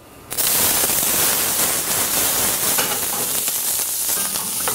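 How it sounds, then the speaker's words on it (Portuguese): Onion hits hot olive oil in a frying pan with a sudden onset, then a loud, steady sizzle continues alone with no talk. "numa frigideira, um pouquinho de azeite. Jogamos a cebola."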